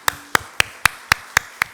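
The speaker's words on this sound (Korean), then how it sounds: "우리 크게 사랑과 축복의 박수 보내고 인사하겠습니다" Seven sharp, evenly spaced hand claps, loud and close with short gaps between them, heard during a church service.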